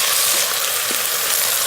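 Chopped potato sizzles in hot oil inside an Instant Pot, a steady close hiss of frying heard alone for a brief moment.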